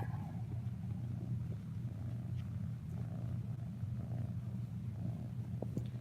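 A cat purrs close up in a continuous low rumble, steady and soft, with no voices.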